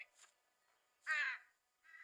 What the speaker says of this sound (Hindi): मेरे कौवे पर भरोसा रखिए, मैं इसे कई सालों से सिखा रहा हूँ।